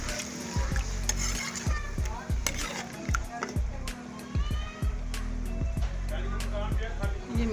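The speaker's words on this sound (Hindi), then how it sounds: "ये टमाटर के पेस्ट डाल दी" Tomato paste hits a hot pan for an aloo gobi pulao and sizzles steadily, while a spoon clanks and scrapes against the pot in quick repeated strokes.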